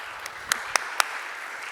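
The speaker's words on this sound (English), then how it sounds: "So, a round of applause." A few scattered claps from a small audience greeting journalist Anda Asere on stage at a startup-event fireside chat, three sharp hand claps standing out over a quiet room hiss.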